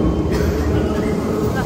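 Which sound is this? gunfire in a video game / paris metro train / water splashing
paris metro train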